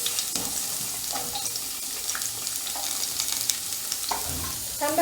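Onion sizzles and frys in hot oil in a pan, a close, steady crackling hiss with occasional stirring scrapes throughout.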